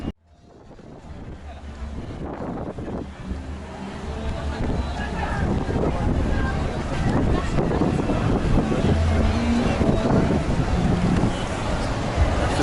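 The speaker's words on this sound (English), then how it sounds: "it's a little bit windy. I don't know how the microphone's going to cope with this" Steady low rumbling wind buffeting the microphone in London, loud and continuous, with boat and water sounds mixed underneath.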